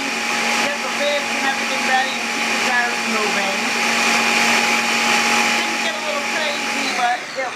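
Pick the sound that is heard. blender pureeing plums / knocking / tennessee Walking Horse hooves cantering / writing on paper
blender pureeing plums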